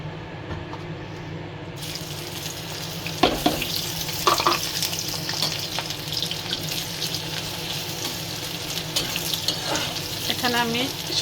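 Garlic sizzling in hot oil ahead of mustard greens, a dense steady hiss that starts abruptly and continues close up, with a few spoon knocks and scrapes against the pan.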